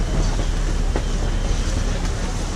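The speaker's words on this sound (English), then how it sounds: "You can actually see the narrow gauge railroad and the train steaming on through here to the other" A narrow gauge railroad train passes at a distance, heard from out on Casco Bay near Portland, Maine, as a steady broadband rumble and hiss with one faint brief squeal partway through.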